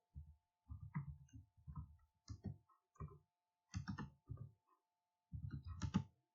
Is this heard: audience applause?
no